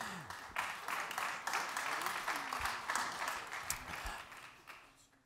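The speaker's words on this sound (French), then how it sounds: "on peut applaudir Marie-Laure Denis qui est avec nous." An audience at a conference breaks into sustained applause, dense clapping from a crowd filling the room at moderate distance, gradually tapering toward the end.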